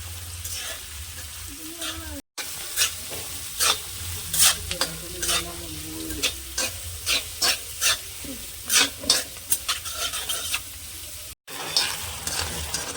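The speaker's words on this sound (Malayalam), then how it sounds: "അരിഞ്ഞു വെച്ച് സവോളയും ഉള്ളിയും പച്ചമുളകും കൂടി ഇതിൻ്റെ നമുക്ക് ഇട്ട് കൊടുക്കാം" Chopped onions, shallots and green chillies frying in a pan, a continuous close sizzle broken by repeated scraping stirs in an uneven rhythm, with brief dropouts and faint voices in the background.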